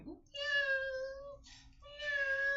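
A cat gives two drawn-out meows, close and clear, separated by a short pause, against a quiet background.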